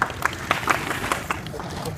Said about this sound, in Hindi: ताली हो जाए रामेश्वर के लिए